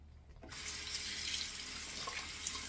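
Water runs steadily from a tap into a sink, a constant close hiss that starts abruptly and continues without talk.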